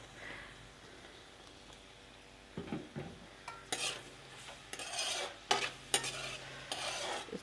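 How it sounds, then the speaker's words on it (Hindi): A large onion frying in oil until light brown for a dal mash tempering: a soft background sizzle punctuated by repeated bursts of close stirring and scraping against the pan, growing busier and louder toward the end. "ये एक प्याज लिया मैंने बड़ा सा और इसमें हम तेल डालेंगे। अब तेल डाल के इसको हल्का ब्राउन कर लेंगे।"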